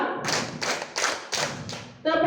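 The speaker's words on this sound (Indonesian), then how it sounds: "Tepuk tangan untuk kita semua." A classroom group claps a chant: five distinct bursts of many hands clapping together in a steady rhythm, fairly close, with a voice starting at the very end.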